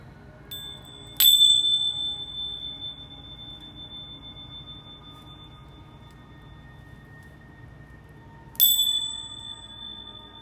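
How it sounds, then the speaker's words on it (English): Bells ring in a quiet room during a card-reading session. Two clear, bright strikes stand out, each ringing on and fading slowly, with a fainter tap before the first and a long hush between. "I'm going to ring the bells 3 times"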